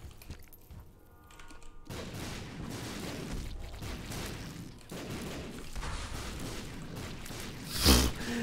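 Rapid, continuous volleys of tear shots in The Binding of Isaac: Repentance pop and thud without pause, with a louder burst near the end; no talking.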